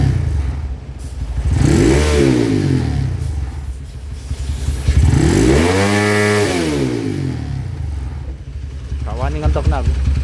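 Honda Tiger motorcycle engine with a 72 mm piston kit, revved up hard in repeated rising and falling sweeps, loud and close with a rough, buzzing tone.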